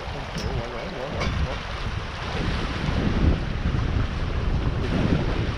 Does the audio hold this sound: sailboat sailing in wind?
yes